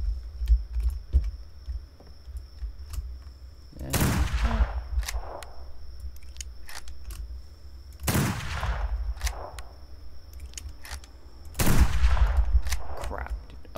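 Three Hartford rifle shots fired at a bear in a Wild West video game, each a loud sharp crack with a trailing echo, spaced about four seconds apart against a quiet outdoor background with faint clicks.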